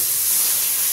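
Water poured into a hot pan of spiced frying masala, giving a brief, loud, steady hiss of steam.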